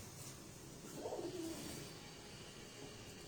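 A pigeon kept by a breeder gives a single short, low coo about a second in, faint over a steady background hum, with no voices.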